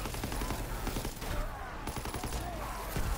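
Rapid, dense gunfire while shooting zombies in Call of Duty: WW2 Zombies, loud, continuous overlapping bursts filling the whole stretch with a busy game soundscape behind.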